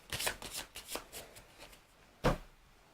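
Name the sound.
shuffling a deck of game cards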